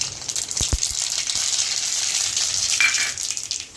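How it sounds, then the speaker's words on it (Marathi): Mustard seeds crackling and sizzling in hot oil, a steady bright hiss with a few sharp pops near the start, close and alone without talk. "तेल चांगलं तापले आपण मोहरी टाकून घेऊयात"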